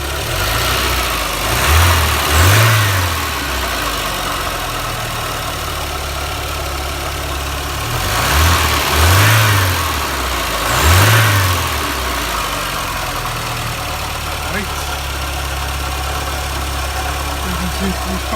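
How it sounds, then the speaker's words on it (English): Porsche 924 2.0 non-turbo engine idling steadily outdoors, with three short revs swelling and falling back, two close together early and two more around the middle, then settling to a low idle. "Let's give it a few revs."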